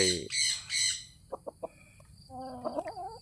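A chicken clucks and squawks nearby: a few loud calls, then short clucks, then a longer rising cackle.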